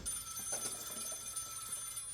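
Telephone bell ringing in a collector's room, a steady high trilling ring that carries through the whole stretch at moderate level, with no talking.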